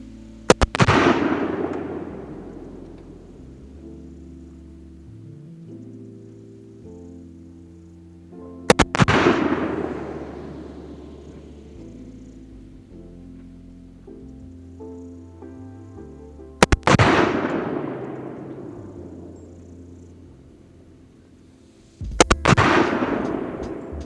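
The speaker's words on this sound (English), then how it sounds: "we're going to attempt to fire 5 rounds into that zero target and maintain our 6 MOA shot group at the most." An M4 rifle fires at a zero target from a standing supported position: sharp, loud shots spaced several seconds apart, each trailing off in a long echo, with the last two coming close together.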